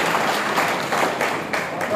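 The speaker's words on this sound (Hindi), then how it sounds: "जोरदार ताली से भाई केवल सरपंच जी का स्वागत करें।" At an Aam Aadmi Party rally in Garden Estate, Reasi, a crowd applauds to welcome a speaker, a steady wash of clapping that runs throughout, with a voice talking over it.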